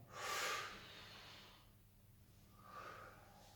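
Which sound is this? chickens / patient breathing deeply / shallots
patient breathing deeply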